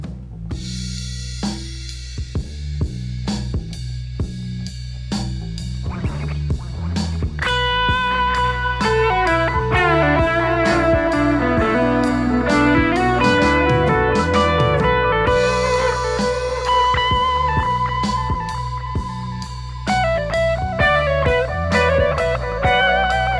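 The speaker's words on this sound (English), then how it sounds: "I'm using a Fender style amp on the Bright Flame with a 4x12 cabinet" Electric guitar through a clean Fender-style amp with a Mosky Bright Flame pedal and 4x12 cabinet, picked single notes and chords ringing out with sustain, played alone and fairly loud throughout.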